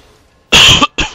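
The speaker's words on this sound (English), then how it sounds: "A little cough." Two close, loud coughs in quick succession, the first longer and the second short, from a gaming commentator with near silence around them.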